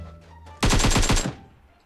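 An AKM rifle in the mobile shooter PUBG Mobile fires one quick automatic burst of about six or seven sharp shots. A short, loud, close volley starts abruptly and then cuts off into quiet.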